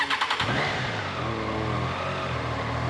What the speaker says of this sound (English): I really love the sound of the Triumph's inline 3-cylinder all day.